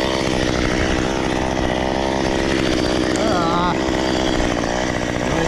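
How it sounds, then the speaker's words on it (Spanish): Chainsaw engine runs loud and steady throughout, with pitch wobbles as it revs, in a tree pruning video game; someone speaks briefly over it. "Motosierra, ¿dónde está?"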